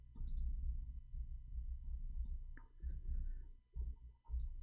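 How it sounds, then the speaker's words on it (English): Keyboard keys click in quick, irregular bursts, faint and close, with short pauses between runs of typing over a low background rumble. "I cannot read your text when I am typing"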